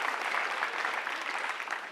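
Crowd at a 10th anniversary celebration event claps steadily for itself, a dense, even patter of many hands at moderate level without speech.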